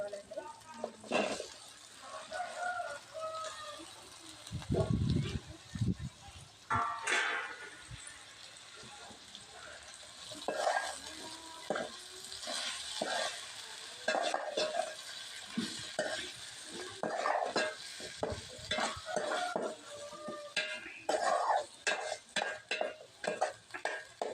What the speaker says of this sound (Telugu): ఉల్లిపాయలు టమాటాలు పచ్చిమిర్చి అయితే వేసేస్తాను